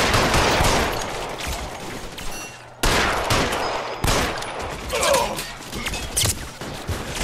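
Gunfire in the video game L.A. Noire comes in loud, rapid bursts of shots, with a sharp cut-off before the firing resumes in clustered volleys.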